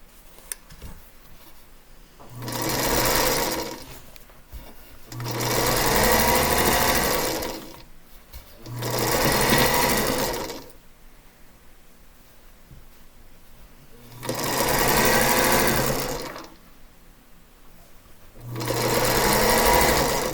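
Sewing machine stitching fabric scraps for a cross quilt block, running in five steady bursts of a few seconds each with quiet pauses between, close and clear with no talk.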